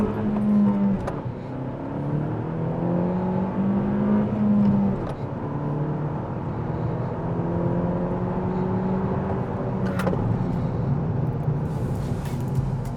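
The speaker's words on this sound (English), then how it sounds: "This was Carter's 2019 Civic Si without a tune" A stock, untuned 2019 Honda Civic Si accelerates hard on a race track. The engine revs climb in repeated rising sweeps with breaks at gear changes, heard from a moderate distance with no talking.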